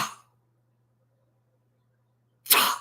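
Rifle fire in the video game Foxhole: two single sharp shots about two and a half seconds apart, separated by near silence, slow and deliberate.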